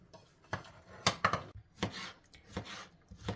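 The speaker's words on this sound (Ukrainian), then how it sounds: "А тепер нарізаємо огірочок маринований соломкою." A knife cuts pickled cucumber into thin strips on a cutting board in quick, uneven strokes, close and fairly quiet, with no voices.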